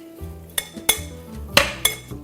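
A spoon clinks and knocks against a bowl while tofu marinade of minced dried onion, garlic and seasoning is mixed. Several sharp taps come in quick succession over a low clatter.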